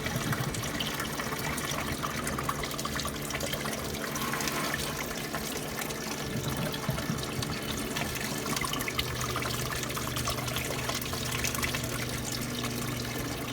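Coolant drains out of a Porsche Boxster 986 cooling system in a continuous, fairly close gushing and splashing stream with no pauses or talk.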